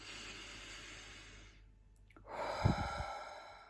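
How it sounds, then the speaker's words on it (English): A slow, deliberate breath drawn in through the nose, a pause, then a longer soft exhale out through the mouth, close and quiet with no talking. "pulling the air up through your nose, sending it down your body, gently out through your mouth"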